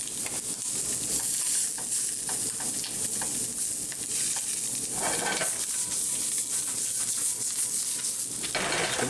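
Crappie fillets fry in a pan with a loud, continuous sizzle and bubbling crackle, close and steady throughout with no voices.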